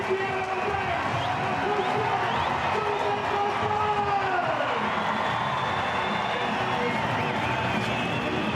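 A large stadium crowd at a 2015 NRL rugby league match between North Queensland Cowboys and New Zealand Warriors roars and cheers continuously, a dense sustained wall of voices with whoops rising from it, heard on its own without commentary.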